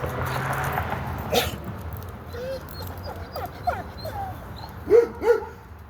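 Dogs behind a fence whimper and yip with a few short barks, moderately near, over low outdoor background noise.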